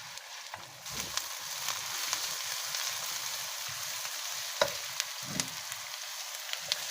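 Chopped onions frying in oil in a pan for masala fish, turned translucent: a soft, steady sizzle with occasional stirring scrapes and small pops, fairly quiet and without talk.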